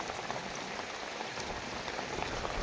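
Steady rainfall outdoors during a village downpour, an even, continuous hiss of drops on surfaces that holds at a constant level throughout, with no one talking.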